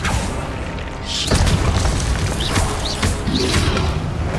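Spell blasts go off in Hogwarts Legacy with a loud booming explosion, followed by continuous rumbling crashes and short whooshing chirps, all dense and close.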